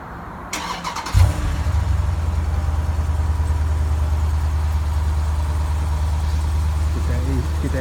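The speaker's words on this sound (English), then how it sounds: "Let me start her up." A 2016 Jeep Grand Cherokee SRT Night Edition cranks briefly and fires, then settles into a loud, steady low-pitched idle heard from close by.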